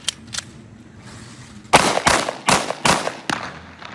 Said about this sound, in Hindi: जहां पर नौजवान की जानिब से सरेआम हवाई फायरिंग की जा रही है